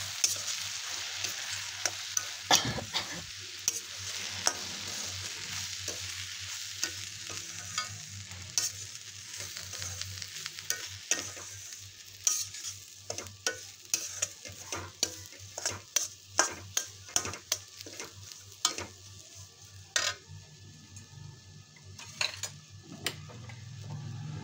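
Semolina (rava) stirred in a pan while roasting for upma: a long run of dry scraping and sharp ticking spoon strokes against the pan over a faint, steady sizzle, with no voices.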